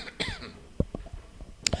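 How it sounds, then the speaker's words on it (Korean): A man coughs several times in quick, sharp bursts with a throat-clearing sound in between, close and fairly loud in a quiet room during a Korean real-estate lecture. "제가 기침 온다고 여러분들 걱정하지 마세요."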